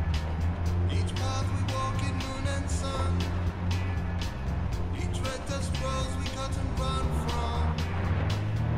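In Far Cry 4, a car in the video game drives with a steady, loud engine drone and rumbling low tone, continuous throughout, with game sounds clattering on top.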